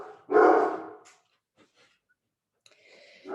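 Indoors, dogs give one loud, close bark followed by a few faint yips and a softer bark or whine trailing off at the end.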